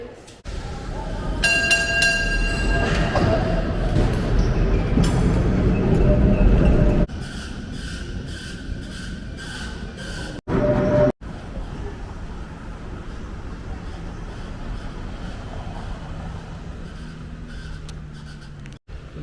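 A Christchurch city tour tram rolls steadily along, a continuous low rumble with a louder stretch early on, then a calmer hum with brief clatters.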